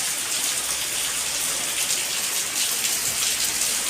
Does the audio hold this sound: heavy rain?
yes